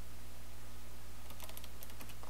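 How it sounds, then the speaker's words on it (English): A computer keyboard is tapped in a quick burst of close keystrokes over a steady electrical hum, with the clicking starting about halfway through and continuing to the end. "So I'm going to type in"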